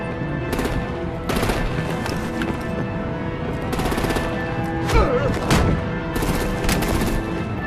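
Bursts of gunfire and artillery from the video game Batman: The Enemy Within, clustered into repeated sharp volleys over a steady rumbling battle bed, loud and close throughout.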